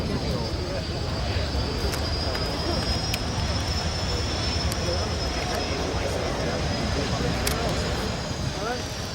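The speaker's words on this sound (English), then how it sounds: "New Zealand Air Force Corsair in number 4 position." A New Zealand Air Force Corsair flying in formation at the Biggin Hill air show, a steady, loud propeller-engine roar that holds throughout, with crowd noise and a commentator talking over it.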